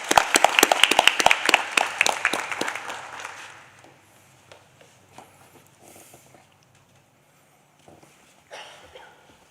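Applause at a school board meeting honoring a student: a short burst of clapping up close that thins out within a few seconds, leaving scattered claps, rustling and quiet room noise.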